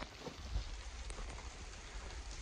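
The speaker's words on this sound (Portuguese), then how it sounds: "eu vou pro carro que tá muita chuva" Heavy rain pours steadily around a Chevrolet Blazer pickup stuck in mud, a continuous dense hiss of drops close by with a faint low rumble underneath and no voices.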